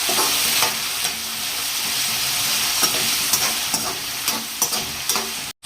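Rice frying in a pan with diced potato, a steady close sizzle and spluttering broken by sharp pops and crackles, with no talking.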